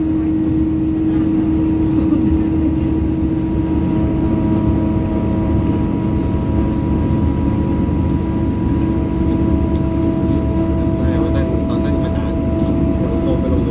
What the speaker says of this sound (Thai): เสียงเครื่องยนต์จะอื้อนิดหนึ่งนะครับ รถสปินเตอร์นะครับ